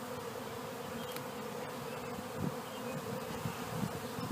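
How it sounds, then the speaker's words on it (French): Honeybees drone in a steady, dense buzz at an opened hive during a spring inspection, close and continuous, with a few louder passes as individual bees fly near. "je regarde aussi les abeilles"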